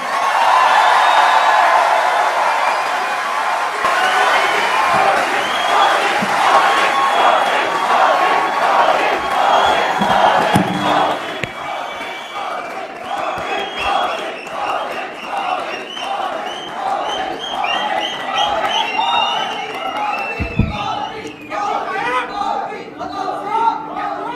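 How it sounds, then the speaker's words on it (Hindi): A large crowd at an event welcoming Prime Minister Narendra Modi during his visit to Europe roars and chants loudly and steadily, with dense cheering and voices that carry on throughout and build to a sustained din. "हमारे प्रिय प्रधानमंत्री श्री नरेंद्र मोदी जी का तालियों की गड़गड़ाहट से स्वागत करें"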